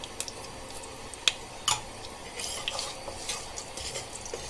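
Curry leaves, mustard seeds, cumin and fenugreek tempered in hot oil for a fish curry, a soft crackling sizzle with a few sharp pops and spatters, close but fairly quiet.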